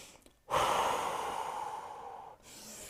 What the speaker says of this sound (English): taking some deep cleansing breaths here, in through the nose, out through the mouth